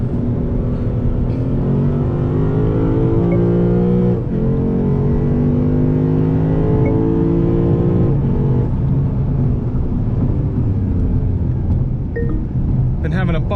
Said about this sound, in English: just listen to that sound. 5-liter V8.